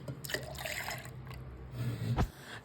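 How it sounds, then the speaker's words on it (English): Cold milk poured into a blender, a soft low trickle and splash of liquid that builds and ends with a brief louder gurgle, quiet and close with no talk. "Now in a blender, add 2 cups of cold milk."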